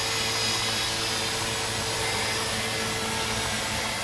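A Walkera MX400 radio-controlled helicopter flies at Hoi Sing Wan bay, its rotor and motor making a steady, loud, even whine and buzz that carries on without a break.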